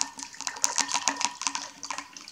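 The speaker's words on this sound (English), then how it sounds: "I will fill in water here." Water pours into a hyperbolic funnel of a water structuring device, giving a steady close splashing and trickling with light clinks against the vessel.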